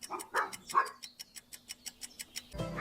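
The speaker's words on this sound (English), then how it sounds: "It's a dog." A dog barks in a quick burst of three or four loud barks, then a rapid series of lighter, evenly spaced yips. It is close and clear, and a voice cuts in at the very end.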